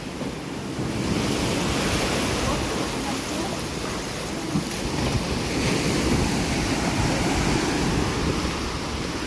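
Storm waves during Typhoon Paeng crash and roar continuously on the shore where fishing boats are beached, loud and close, with heavy wind buffeting the microphone throughout.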